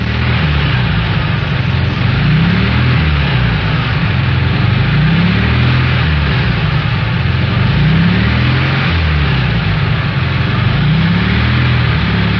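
A normal, healthy Volkswagen engine idles steadily and loudly, with a smooth, even low rumble running alone throughout.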